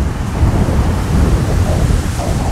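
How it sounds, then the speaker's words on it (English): Wind roaring at the top of a tall building, a loud, steady broadband buffeting that rumbles continuously with small gusty swells and no voices. "the wind is definitely picking up a little bit more"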